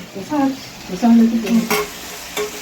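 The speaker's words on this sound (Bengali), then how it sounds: "এখানে মাংসটা কষানো হচ্ছে" Meat being braised in a cooking pot, a Bengali kosha preparation, with a spoon scraping and stirring against the pot over a steady close sizzle while a person talks nearby.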